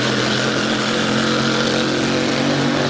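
The Super Shine H1 Unlimited hydroplane racing boat's engine gives a loud, steady, close turbine roar with a constant high whine and rushing broadband noise, unbroken throughout and with no voices.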